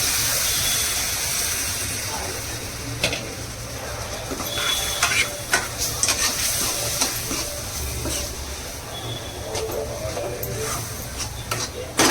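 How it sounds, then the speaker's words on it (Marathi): A modak mixture of rice flour dough, sugar and a splash of milk is being stirred in a pan, with steady scraping and clinking of the spoon over a low continuous sizzle, close and moderately loud, with no voices. "चांगलं हलवून घ्या ते असं"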